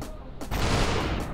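Gunfire in SuperHot VR, a loud burst of overlapping shots that swells after a brief lull and holds as a dense, sustained volley.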